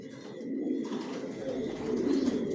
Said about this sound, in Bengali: সব একই লাইনের কবুতর পালতেছি আমি, জনসনের লংয়ের।